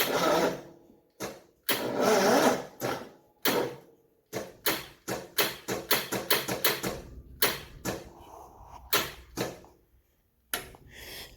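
The starter on a Grazer G2297K mower cranks in repeated bursts, some long and whirring, others short and choppy, separated by brief silences; loud and close, with no voices.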